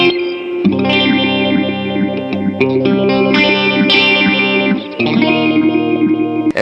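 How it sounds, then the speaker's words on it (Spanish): Electric guitar run through the Liquid modulation effect of a Mooer Mod Factory MKII pedal, chords ringing with a swirling, warbling, phase-like sweep, loud and sustained, no talking. "Ahora el efecto Liquid."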